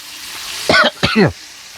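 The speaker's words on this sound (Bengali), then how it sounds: "মাছ বাজি করতেছি মাছ এত বড় মাছ" Fish frying in a pan gives a steady low sizzle throughout, briefly covered by two short voiced throat sounds near the middle.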